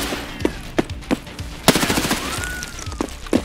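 Gunfire in Escape from Tarkov: about eight sharp shots fired at an uneven pace, loud and close, with cracks echoing briefly after each one.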